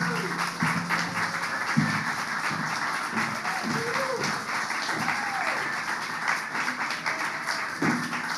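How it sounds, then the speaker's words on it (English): Audience applause at a storytelling event, a steady wash of clapping from a crowd throughout, with some voices mixed in. "let's please give another round of applause for Lisa"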